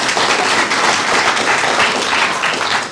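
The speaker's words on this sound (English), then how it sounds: "applause" At a book launch in a hotel function room, the gathered audience breaks into loud, dense applause, a continuous wash of many hands clapping close by for a few seconds.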